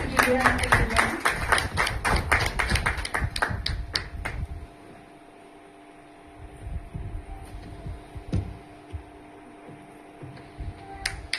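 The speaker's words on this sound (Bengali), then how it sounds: "একটু জোরে হাততালি দিন" Audience hands clap in a dense burst for a young girl called up on stage at a film event, fading after a few seconds into quiet room hum with a few scattered claps.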